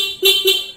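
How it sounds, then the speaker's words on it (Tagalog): Two short car horn honks from a vehicle being tested after installing a four-wire mini driving light with a relay, loud and close, with a brief pause between blasts. "Then, busina tayo."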